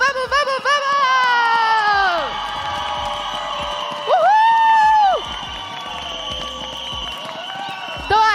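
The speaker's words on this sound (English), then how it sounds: "let's go to the crowd that is right next to us, screaming a lot for Alpha 7" At a PUBG Mobile Global Open esports event in Brazil, a nearby crowd of fans screams and cheers loudly for team Alpha 7, with long shouted and chanted voices rising and falling over the din.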